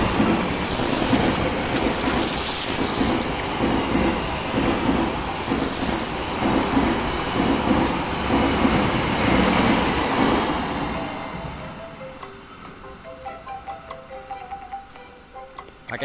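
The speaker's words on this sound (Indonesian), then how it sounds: "Tuh ada kereta tuh." A train passes outside with a loud continuous rumble and rattling wheels, screeching at times, then fades away into quieter background sounds.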